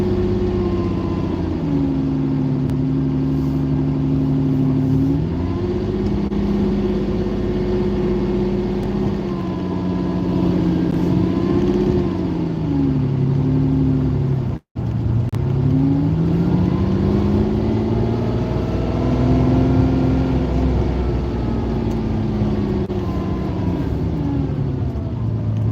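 Lamborghini Countach engine heard from on board while driving, a loud, close roar rising and falling through repeated accelerations and gear changes, with a brief dropout midway and no talking.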